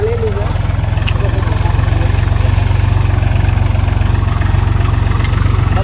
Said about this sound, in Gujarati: એક ટ્રેક્ટર હાલ્યું જાય છે વાવવામાં